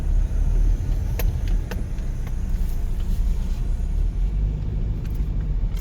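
An Opel Corsa with an automatic transmission idles on an off-road hill climb, giving a steady low engine rumble with a few faint clicks and knocks and no voices.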